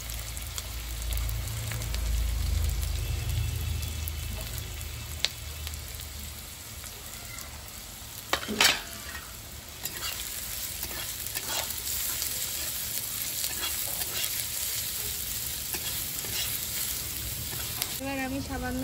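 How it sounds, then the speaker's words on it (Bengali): Finely chopped onion, garlic, ginger and green chilli fry lightly in a clay pot, a dense steady sizzle running throughout with occasional stirring knocks, close. "প্রথমে এগুলো আমি হালকা করে ভাজবো।"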